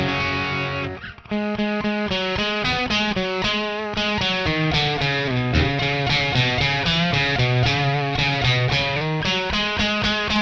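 Electric guitar plays a quick run of choppy, plucked notes through a gritty, lo-fi crushed low-bit effect from a Joyo Vision multi-effects pedal, steady and loud for several seconds.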